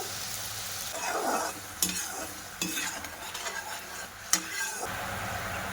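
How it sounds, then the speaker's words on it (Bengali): Sugar and water syrup being thickened in a pan, stirred with a utensil that scrapes and taps the metal in several separate strokes over a steady bubbling sizzle, close and moderately loud, with no talking. "ওর মধ্যে আমি একটু জল দিয়ে দেব, দিয়ে একটা ঘন করে চিনির শিরা বানিয়ে নেব"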